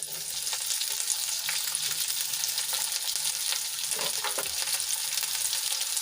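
Two medium onions, cut into large pieces, frying in oil with whole spices such as peppercorns, a steady close hiss and crackle with a few stirring sounds and no talk.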